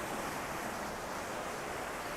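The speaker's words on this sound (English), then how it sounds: "Look how swift that water's running." Fast-running water on the Asagawa river in Tokyo rushes in a steady, loud, broadband wash that fills the whole stretch without pause, with no talk over it.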